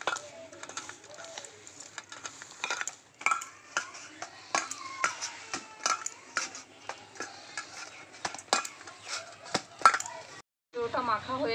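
Hands knead a stiff dough while small splashes of water are worked in, with sticky squelches, pats and light taps on a bowl in a quiet kitchen.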